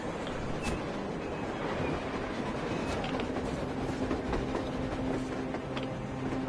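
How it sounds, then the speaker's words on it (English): A train in a video game rumbles past with steady rolling noise and faint rhythmic clatter of wheels, moderately distant, with no talk over it. "A train! A damn train on the surface!"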